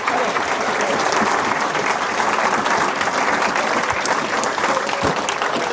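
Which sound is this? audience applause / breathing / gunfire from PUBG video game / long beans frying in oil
audience applause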